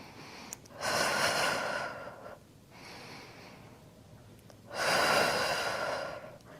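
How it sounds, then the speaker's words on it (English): Two strong, forceful exhales during a Pilates reformer exercise, each lasting over a second, close and breathy, separated by a quieter inhale. "Nice strong exhales to draw the navel in. We'll do 3 more breaths."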